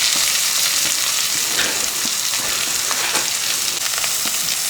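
Onion added to ginger and garlic frying in a pan for a Kozhikodan chicken dish, a loud continuous crackling sizzle close up with light stirring, no speech.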